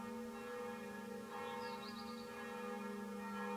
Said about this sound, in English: Maybe you can hear the bells that are ringing outside here.